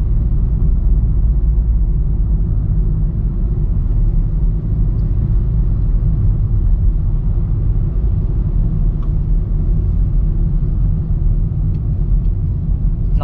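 Road traffic near Santa Lucia on a Diversion Road drive forms a continuous low rumble of car engines and tires, steady and close from start to finish without speech.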